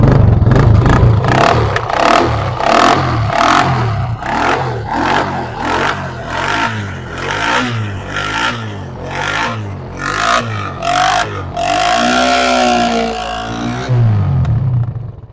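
A grey used car's engine runs and revs in steady surges, rising and falling with some clattering and whirring, fairly loud and close with no talk over it.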